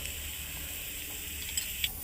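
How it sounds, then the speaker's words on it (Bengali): Chopped bottle gourd sizzles softly in a pan as it is stirred, a low steady frying hiss with a couple of faint clinks from the spoon near the end. "লাউটাকে দিয়ে ভালো করে নাড়াচাড়া করে নিয়ে"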